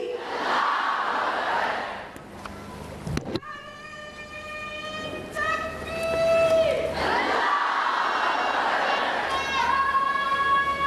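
Large gathering at the annual Jalsa Salana UK convention chanting the Takbir slogan in unison, loud massed voices swelling in waves, with a sustained tonal call-and-response phrase in the middle and no individual speech standing out.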